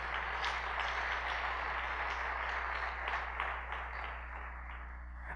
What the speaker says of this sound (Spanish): Fuerte ese aplauso, vamos.